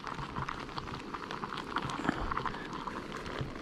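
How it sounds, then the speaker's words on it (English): Rain patters steadily on a small camping shelter during a wild camp in the Lake District's Northern Fells, a dense, close hiss of drops with scattered sharper taps and no voices. "The rain's on. That wasn't in the forecast."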